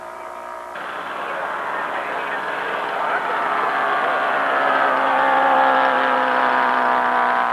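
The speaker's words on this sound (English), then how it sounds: "This airplane is being powered by an OS-160 twin. That's a 4-stroke engine." A radio-controlled scale model airplane powered by an OS-160 twin four-stroke engine drones steadily overhead at a flying event, a sustained mid-pitched engine whine that swells gradually louder as it passes, with no talk over it.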